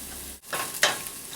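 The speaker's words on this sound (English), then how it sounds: "Isn't the sizzling of the pot making you hungry?" A pot sizzles and crackles while Hainanese chicken rice ingredients are stirred and fried, a close hissing sizzle with a brief scrape and a bright burst partway through.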